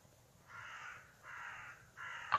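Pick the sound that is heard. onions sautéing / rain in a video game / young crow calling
young crow calling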